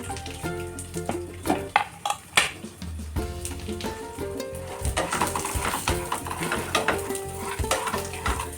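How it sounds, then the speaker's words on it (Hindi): Walnuts, cashews and almonds being dry-roasted together in a kadhai, with steady scraping and stirring, scattered knocks of a spoon against the pan and a soft sizzle throughout, close and fairly loud. "अखरोट और काजू को सेक लेना है"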